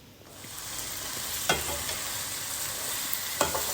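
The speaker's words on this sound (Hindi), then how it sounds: "1 चमचा अदरक लहसुन का पेस्ट, ये हम इसमें ऐड कर देंगे और इसको अच्छे से भून लेंगे।" Chickpeas, tomatoes and ginger garlic paste sizzle and fry steadily in a pot for chana pulao, with a couple of sharp stirring scrapes cutting through the constant close hiss.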